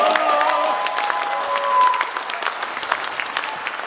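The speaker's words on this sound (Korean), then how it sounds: "그래서 여기서 박수 한번 주십시오." Applause from an audience at a Korean lawmaker's legislative report meeting, a dense steady patter of many hands filling the room, with a few brief tonal notes early on and no one talking over it.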